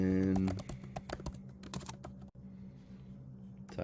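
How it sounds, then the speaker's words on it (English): Someone types on a computer keyboard, a quick run of close, crisp keystrokes followed by a few scattered taps, all in a quiet room. "we're gonna type in barber"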